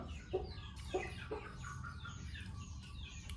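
A rooster clucks in a few short, fairly faint calls at a home where cooking is underway, with soft chirpy bird sounds around it and no voices.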